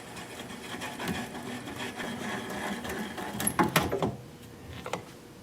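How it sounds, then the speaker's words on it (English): A wood lathe spins while a gouge rubs and cuts at the bottom of a turned bowl, a scraping hum with rough texture that builds into louder rasping bursts near the end before easing off. No speech. "I'm going to apply the bevel of the gouge against the bottom of the bowl"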